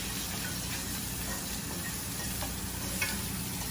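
Onions sautéing in a pan on a steady, close sizzle with continuous frying hiss and a few faint stirring clicks, no talking.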